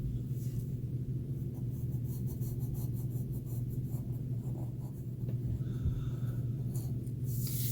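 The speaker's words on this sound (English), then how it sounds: "I'm going to trace over my template with my pencil." A pencil traces around a template on cardstock, with continuous close scratchy strokes over a steady low background hum and no talk.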